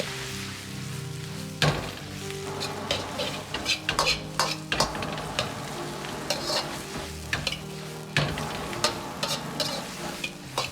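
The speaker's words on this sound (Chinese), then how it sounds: "接着下入煸炒过的圆白菜" Cabbage stir-fried with chili sauce in a wok, a steady loud sizzle punctuated by repeated scraping and clanking strokes of a spatula against the metal as it is tossed.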